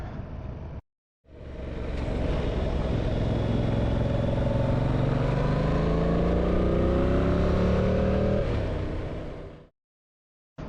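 A motorcycle engine revs and accelerates through several rising gear pulls, loud and close for about eight seconds before cutting out.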